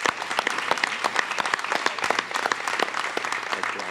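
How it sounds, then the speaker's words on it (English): Audience applause at a school board meeting for championship athletes and staff, with sparse, distinct claps from a modest crowd ringing out steadily at close range. "Let's give them another big round of applause."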